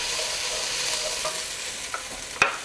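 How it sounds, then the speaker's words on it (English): Onions, peppers, celery and jalapenos sizzle and fry in a pan, with a utensil stirring and scraping now and then, including a sharper clack near the end; steady close frying with no voices. "You want to add the jalapenos and continue to cook."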